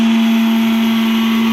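A kitchen mixer grinder (mixie) runs steadily while grinding spices to powder, a loud continuous motor whine with a strong steady hum, unbroken for the whole stretch with no talk.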